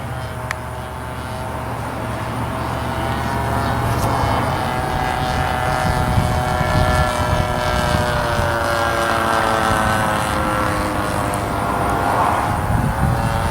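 A 60 size Reactor RC model biplane flies overhead, its glow engine droning steadily and loudly throughout, with the pitch slowly rising and falling as it passes; no talking.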